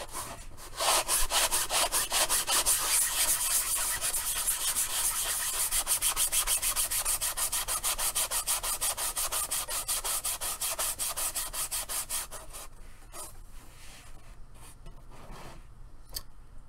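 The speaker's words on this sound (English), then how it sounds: "it comes in handy for some stuff, that palm sander, the mouse sander from Black and Decker" A Black and Decker mouse palm sander works on a 3D-printed helmet, making a loud, close, continuous buzzing scrub with fast pulsing strokes that ease off near the end.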